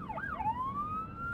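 A police siren in the road game Road 96 wails and sweeps up and down in pitch, a single short clear tone rising and then holding steady at moderate loudness.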